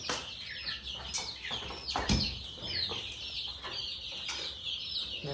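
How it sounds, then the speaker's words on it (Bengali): Hens and young chicks clucking and cheeping close by, a busy run of short overlapping calls with occasional louder squawks and a light flutter of wings. "দেখুন এখানে রয়েছে কত মুরগির বাচ্চা।"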